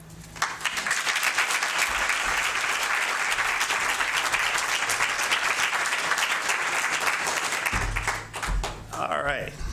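Dense applause from an awards reception audience, loud and steady for nearly the whole stretch, with a voice and some shuffling emerging as it dies away near the end.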